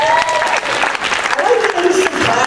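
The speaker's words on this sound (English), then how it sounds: "Clap for Camp Quest South Carolina." Audience applause for a humanist children's camp during a freethought award presentation, a dense, steady wash of clapping lasting the whole stretch, with voices mixed in underneath.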